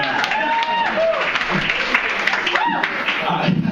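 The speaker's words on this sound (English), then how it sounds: "you guys round of applause to the Atlantic Ocean" A comedy club audience breaks into loud, sustained applause and cheering that fills the whole moment, with scattered voices mixed into the clapping.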